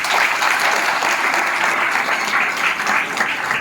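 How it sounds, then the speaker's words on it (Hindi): An audience at a youth talk breaks into loud, dense applause, a steady wash of clapping from many hands that holds for the whole stretch. "एक बार जोरदार अपने लिए ताली"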